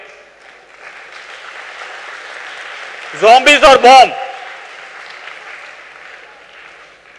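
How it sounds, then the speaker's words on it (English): A short burst of audience applause at a business session on entrepreneurship, a few loud seconds of clapping set between stretches of a speaker's voice, which runs on before and after. "I want that round of clap so that you are all awake"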